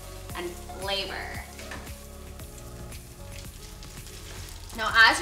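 Pasta tossed in a hot pan of butter and garlic for shrimp scampi sizzles steadily, with clinks and stirring scrapes and a brief louder burst near the end.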